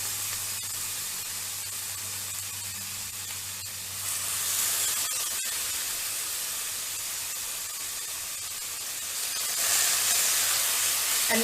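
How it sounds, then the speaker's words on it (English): Satay skewers pan frying, a steady, close hiss of oil. The sizzle grows louder and brighter in two steps as the cooking intensifies. "let's pan fry this"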